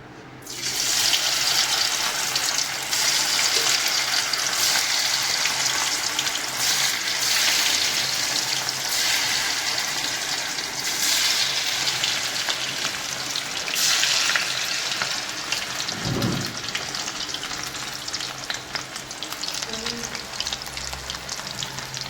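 Cauliflower 65 deep frying in hot oil in a kadai, a loud, steady broadband sizzle and bubbling that runs continuously throughout, with a brief low thump partway through.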